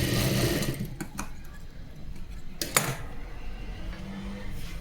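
A sewing machine stitching a tuck in a blouse, a short whirring run at the start followed by a few faint mechanical clicks and taps, close and without speech.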